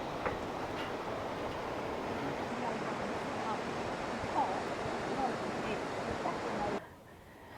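Steady broadband rush of a waterfall at Litchfield National Park in the Northern Territory, continuous and fairly distant, with no voices, cutting off abruptly near the end.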